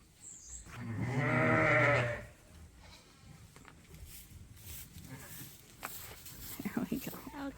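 Suffolk ewe bleats loudly and close in a barn, one long wavering call, followed by quieter shuffling and a softer lamb bleat near the end.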